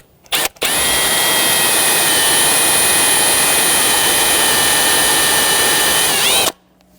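An electric drill bores into a Honda Ridgeline wheel hub, a short blip then a loud, steady high whine lasting several seconds before stopping abruptly, with no talk.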